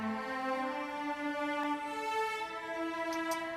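A large cello ensemble sample library sounds a full, sustained line of held notes that shift in pitch a few times, warm and layered, with no other sounds present.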